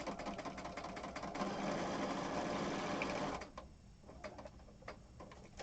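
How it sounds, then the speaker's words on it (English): Sewing machine running a straight stitch down a glued junk journal cover: a close, continuous rattling hum for about three seconds, then it stops and leaves light clicks and handling noise. "I'm going to change it to a straight stitch. And I'm just going to kind of sew."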